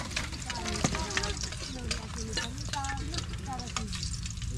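Tomatoes and egg sauté in a hot pan with a continuous loud sizzle and occasional stirring scrapes, while people talk nearby throughout.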